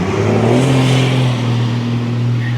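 A truck engine revs steadily close by, a strong low droning tone with a slight rise in pitch partway through, continuous and alone without any voices.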